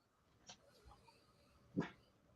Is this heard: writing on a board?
no